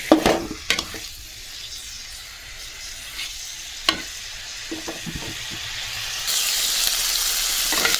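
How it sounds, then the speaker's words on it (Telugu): A chicken roast mixture is stirred in a hot pan, with soft scraping and stirring strokes over a steady sizzle that grows louder and hissier toward the end. "ఇలా మిక్స్ చేసుకోవాలి ఇలా అయితే మిక్స్ చేసుకోవాలి"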